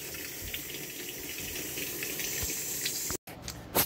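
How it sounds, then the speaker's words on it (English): A kitchen tap runs steadily while a cooking pot is rinsed beneath it, a close, continuous hissing gush of water that cuts off briefly near the end before resuming with a splash. "so I'm just going to give that a quick rinse as well"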